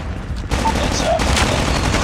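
A burst of gunfire goes off in Call of Duty Mobile, a short dense volley over game ambience.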